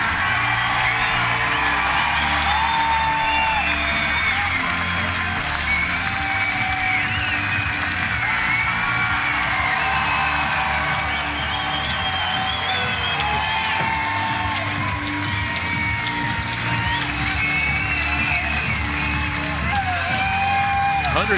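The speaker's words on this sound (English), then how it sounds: "listen to this crowd" A baseball stadium crowd at an East Carolina versus Florida game roars and applauds continuously as a right-handed pitcher walks off toward the bullpen, a dense, steady wall of cheering and whistles.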